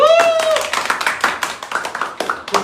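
A few people clapping together on a live stream, a quick run of uneven, close hand claps that follows a brief voice at the start.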